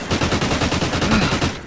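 Rapid automatic gunfire in Call of Duty: Ghosts, a steady close burst of evenly spaced shots running the whole short moment with no talk over it.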